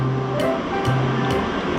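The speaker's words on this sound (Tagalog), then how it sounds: "nagpapakulo ako ng luya at tubig" Water with ginger boils in a cooking pot, giving a continuous bubbling, rushing sound close by, with short hissing surges recurring at regular intervals; no talking.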